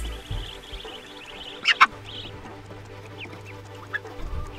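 Chickens on a small farm give a couple of brief clucks over a quiet outdoor background with a low steady hum, the calls sparse and moderately near.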